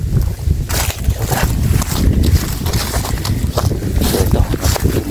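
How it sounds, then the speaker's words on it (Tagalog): Strong outdoor wind buffets the microphone in loud, continuous rumbling gusts with rough, surging bursts throughout, no voices heard. "Malakas ang hit ng hangin."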